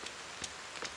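Rain falls in a video game, a faint, steady hiss of pattering drops with a few brief soft ticks, quiet and unbroken.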